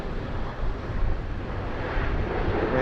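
A Qatar Airways Boeing 777-300ER taxiing at Sydney Airport, its engines a steady broad roar that builds slightly toward the end, fairly close and without voices.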